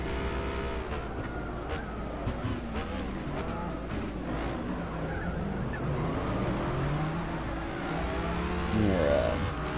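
A Cizeta V16 T race car in Gran Turismo 6 roars down a high-speed section of a race, its engine a steady, loud whine with pitch that climbs and shifts throughout, with no talking.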